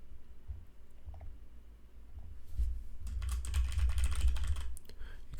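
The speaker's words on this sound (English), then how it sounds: "There we will start typing it." Typing on a computer keyboard: sparse, quiet key taps at first, then a dense, rapid burst of clicking keystrokes in the latter half, close and clear.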